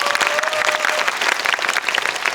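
A cinema audience at a film screening Q&A for the Korean film Concrete Utopia breaks into dense, sustained clapping, loud and steady throughout.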